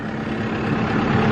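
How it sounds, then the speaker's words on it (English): A tractor engine idles steadily at close range, a continuous low rumble with even loudness throughout and no voices over it. "It's the first time Sassy's been in the tractor."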